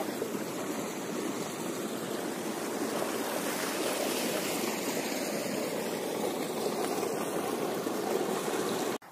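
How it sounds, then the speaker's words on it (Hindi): Irrigation water rushes steadily into a mustard field on a farm, a continuous broadband gushing close by with no break until it cuts off at the very end. "तो ये देखिए पानी अभी आया है"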